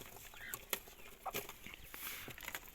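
Faint, soft clucks from a Spanish-breed (ispenç) hen amid scratchy rustling and light tapping, quiet and close with no voices.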